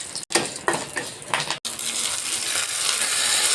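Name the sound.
mustard seeds tempering in oil for coconut chutney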